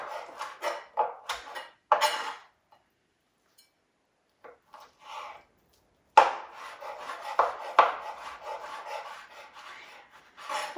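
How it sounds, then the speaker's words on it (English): Roast turkey being chopped with a knife on a board for a casserole, coming as bursts of close scraping, rasping cuts with short pauses between them and a longer quiet gap in the middle. "So just getting my turkey chopped up."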